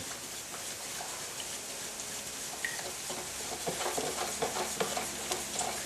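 Casting material for a model being mixed in a container, a steady, close, gritty stirring and scraping with faint ticking clicks that grow slightly busier toward the end, with no talk.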